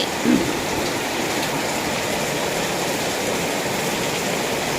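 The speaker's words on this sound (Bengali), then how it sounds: "নেমেছে বৃষ্টি, জোরে বৃষ্টি হচ্ছিল, অনেক জোরে" Heavy rain pours steadily and densely on surfaces, a constant close roar with no break and no talking.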